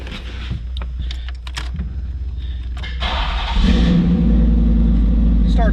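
The V8 engine of a 1990 Cadillac Allante parts car with 102,000 miles cranks, catches and settles into a deep, loud rumbling idle close by, after some clicking and shuffling noises.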